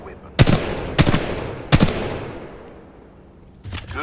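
Weapon fire in the Titanfall 2 video game: three loud, sharp gunshot bursts in quick succession, then a quieter pause before a fourth shot at the end, with no talking.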